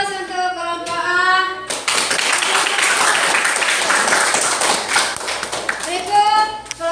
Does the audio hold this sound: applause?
yes